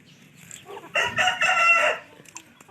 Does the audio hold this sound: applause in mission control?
no